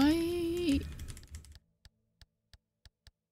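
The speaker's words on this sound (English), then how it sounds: "You hear me clicking, right?" Computer keyboard and mouse clicks during PC play of Pacific Drive, a handful of sharp isolated clicks spaced about a third of a second apart, following a brief burst of game sound that fades out.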